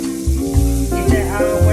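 Butter sizzling loudly in a frying pan for French toast, a steady close crackle with shifting tones running through the whole stretch.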